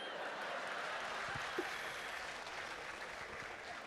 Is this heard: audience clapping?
yes